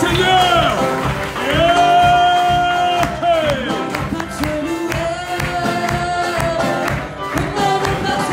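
A church congregation acclaims and cheers in a loud, continuous crowd roar, with sustained sung or shouted voices rising and falling over about eight seconds.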